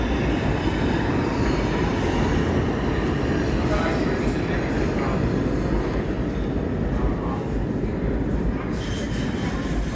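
A New York subway train pulls out of a station toward Atlantic Terminal, its steady loud rumble carrying squealing wheels and rattling cars throughout, with a brief brighter hiss at the end.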